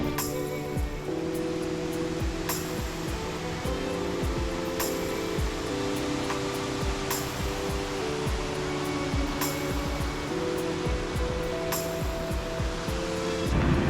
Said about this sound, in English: There's a waterfall somewhere here, I hear it.